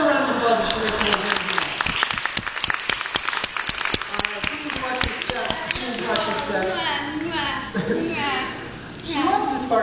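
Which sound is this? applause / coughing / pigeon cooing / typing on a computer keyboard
applause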